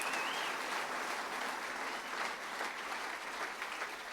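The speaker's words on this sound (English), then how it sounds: "what about a round of applause for all of our AgriKids grand finalists?" A crowd at a young farmer awards night applauds AgriKids grand finalists, giving a steady, even wash of clapping that holds for about four seconds.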